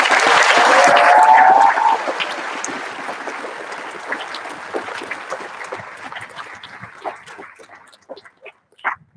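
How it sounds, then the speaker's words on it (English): Applause from a graduation audience honoring the performers, loud and dense at first, then thinning into scattered claps that trail off over several seconds. "About another round of applause for our performers and Mr."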